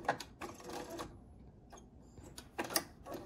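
A sewing machine stitching quilt pieces for a double wedding ring quilt, with short quick bursts of mechanical clatter, close and moderately loud, with a quiet pause in the middle.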